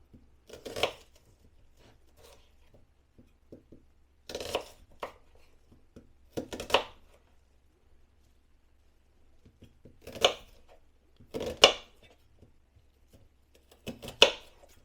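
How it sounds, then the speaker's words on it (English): A knife chops an onion on a board in quiet bursts of quick cuts, about six short clusters separated by pauses, close and soft. "there's our onion all chopped"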